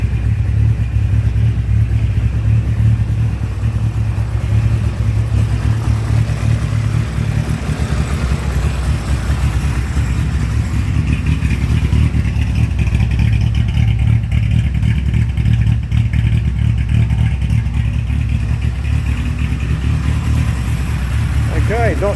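Small engine of a 1938 Baby Austin running through a baffled torpedo muffler, a steady low idle close by with a slight rise in revs, while someone talks over it.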